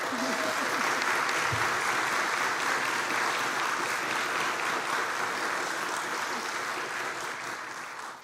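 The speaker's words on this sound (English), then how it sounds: "Let's give them another round of applause." In a church, an audience applauds a youth handbell choir at a Christmas concert, sustained, full clapping that holds steady for several seconds before thinning out at the end.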